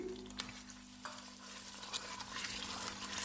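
Poppy seeds roast in a chicken gravy, a quiet soft sizzle with occasional stirring scrapes and clicks throughout.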